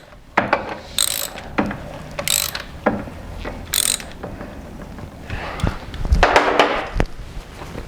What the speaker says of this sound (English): I'm going to turn the motor over again.